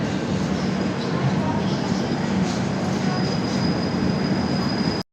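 Durg Yog Nagri Rishikesh Express train passing close by in India, a loud, steady rumble of wheels and carriages that fills the whole stretch, with a faint high whine riding on top until it cuts off.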